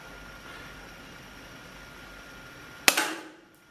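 A Savaging Bull airsoft gun fires once at a plastic bottle about five to six meters off, a single sharp crack after a quiet stretch, followed by a brief fading rattle.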